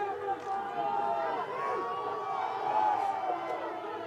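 A home football crowd at a Grantsburg Pirates high school game against Glenwood City cheers and murmurs steadily in the stands, a broad, moderately distant roar that runs the whole time beneath a commentator's talk.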